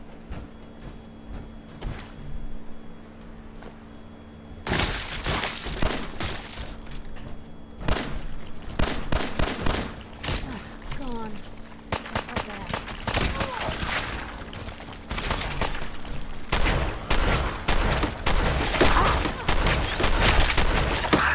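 Gunfire in the video game Fallout 4, with dense bursts of rapid shots going on for many seconds, loud and close, while voices talk over the shooting.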